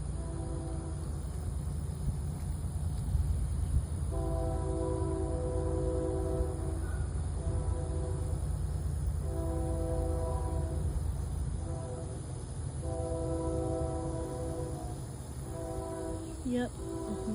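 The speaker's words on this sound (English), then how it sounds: "Oh look, I hear an AKDN horn and a UP horn." Distant Union Pacific and AKDN train horns sound over a steady low rumble, with several sustained multi-tone chords repeating at intervals, fairly faint and far away.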